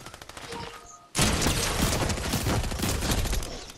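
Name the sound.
mythical shotgun fire in the video game Fortnite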